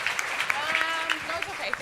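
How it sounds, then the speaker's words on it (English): A comedy club audience at Caroline's claps steadily, a dense patter of hands mixed with a few whoops and a voice talking over it. "Round of applause."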